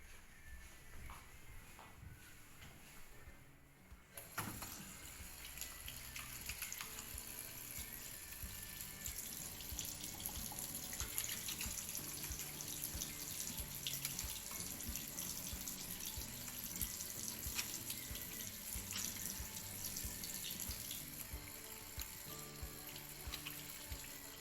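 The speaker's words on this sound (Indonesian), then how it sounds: "Selanjutnya yaitu petugas mencuci tangan." A tap runs steadily into a sink as hands are washed, the water starting abruptly after a quiet moment and continuing as a loud, even splashing rush.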